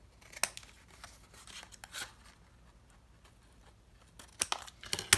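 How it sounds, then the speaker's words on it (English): Scissors cut through cardboard box flaps for a DIY trinket box in a few sharp, close snips and crunchy slices, separated by quiet gaps, with a cluster of faster cuts near the end. "So get your scissors and cut them."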